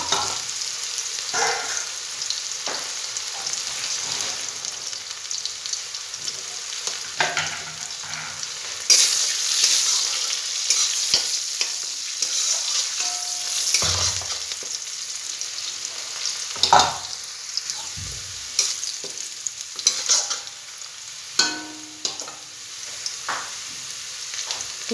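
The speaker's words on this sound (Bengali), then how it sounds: "এখন পেঁয়াজটা ভালো করে আমি নাড়াচাড়া করে ভেজে নেব" Onions frying in oil in a pan for a fish curry with cauliflower and potato, a steady close sizzle broken by repeated scraping and clatter of stirring.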